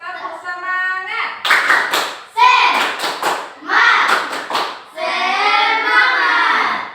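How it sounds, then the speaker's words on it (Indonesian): Schoolchildren in a classroom perform a rhythmic clap chant, voices chanting together in a sing-song pattern punctuated by sharp bursts of unison hand claps, loud and close. "coba tepuk semangat dulu. Tepuk semangat."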